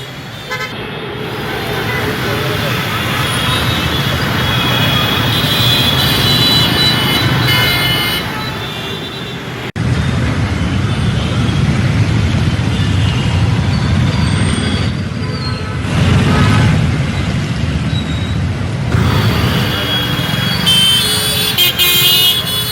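Heavy road traffic stuck in a rain-caused jam in Hyderabad's IT corridor, a dense continuous rumble of engines with frequent car and bike horn toots and honks, loud and close throughout.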